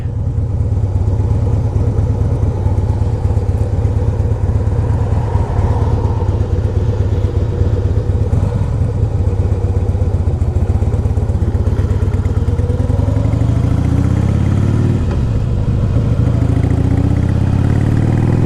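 A 2002 Harley-Davidson Heritage Softail touring motorcycle's engine rumbles loud and close during a ride, a deep, continuous throbbing drone with revs rising and falling, no talking over it.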